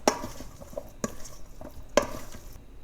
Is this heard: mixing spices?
yes